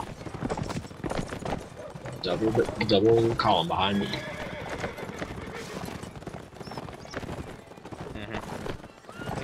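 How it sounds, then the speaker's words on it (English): Horse hooves clip-clop in Mount & Blade Napoleonic Wars during a cavalry line battle practice, with a neigh and distant gunfire, under steady overlapping chatter from players talking throughout. "Hey, look at my horse."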